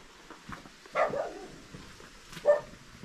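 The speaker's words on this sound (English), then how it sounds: "Yeah, Chele has lots of dogs." Dogs in the mountain village of Chele in Upper Mustang, Nepal, give two short barks about a second and a half apart, fairly distant against a quiet background.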